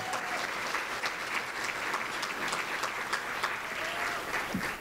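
An audience at a breakfast forum applauds its honorees, a steady, even round of many hands clapping that holds at moderate volume throughout and tapers at the end.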